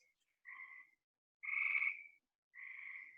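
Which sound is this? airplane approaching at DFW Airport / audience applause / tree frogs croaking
tree frogs croaking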